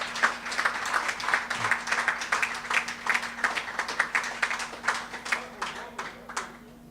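An audience at a track and field meet launch event claps for plaque recipients, with a steady patter of hands that thins into distinct, irregular bursts toward the end over a faint constant hum.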